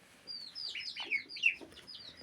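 A hen clucks and calls close by in a poultry setting, a quick run of several bright, chirpy notes over about two seconds, with faint background noise and no talk.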